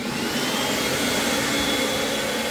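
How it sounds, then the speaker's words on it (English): A 2 kW Freddy coolant recycling vacuum runs steadily throughout, a loud continuous motor roar with broadband hiss and a faint high whine, alone without talk. "Let's see how fast we can pick it up with the vacuum."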